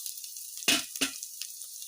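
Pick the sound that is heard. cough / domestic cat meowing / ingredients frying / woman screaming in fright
ingredients frying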